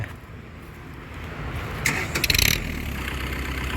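A farm tractor engine cranks and catches amid a low rumbling background, with a short burst of rattling as it starts, then settles into a steady run.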